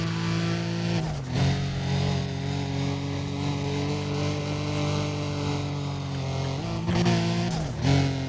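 A car engine in the racing game Need for Speed: Undercover holds a loud, steady drone, with pitch dips and recoveries near the start and again toward the end as the car eases off and picks back up.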